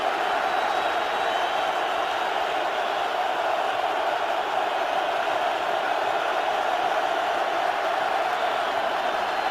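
A stadium crowd at an NFL football game, Atlanta Falcons at Seattle Seahawks, as a player fires up the fans: a steady, dense roar of cheering from a large distant crowd, unbroken throughout.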